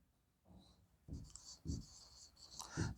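Chalk or marker writes an equation on a classroom board during a self-induction lesson, giving a few firm, close strokes and taps in an uneven rhythm with faint background noise and no speech.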